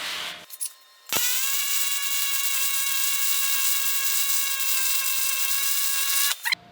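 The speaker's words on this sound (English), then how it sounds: "I'm gonna go ahead and use Pulse MIG setting on that. We're gonna weld this thing all the way around" Pulse MIG welder running a continuous bead around a steel beam with a quarter-inch plate at its end: a steady, close, buzzing crackle with an even pulsing hum, starting abruptly after a short clank and cutting off at the end.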